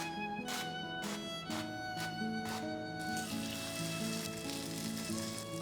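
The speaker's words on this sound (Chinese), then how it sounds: "煎个鸡蛋，煎个肉饼" Eggs sizzle and fry on an oiled hot griddle pan, a steady close crackle running throughout under a bright musical backing, with no talk.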